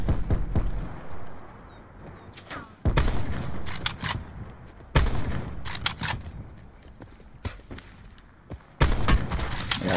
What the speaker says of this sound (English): We getting shot from different directions, man.